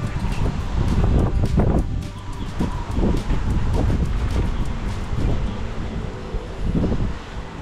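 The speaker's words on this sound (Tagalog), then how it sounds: "Lakas pa rin ng hangin dito." Steady, gusty wind roars and buffets the microphone outdoors, with rumbling low noise and a few faint background sounds.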